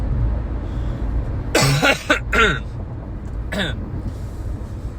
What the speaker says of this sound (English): Sorry I'm coughing so honkily, like a goose.